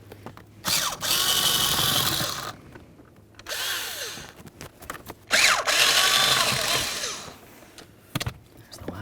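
Power drill removing blower motor mounting bolts on a 2006-12 Ford Fusion, three bursts of whirring, each a second or two long, separated by short pauses with faint handling noises.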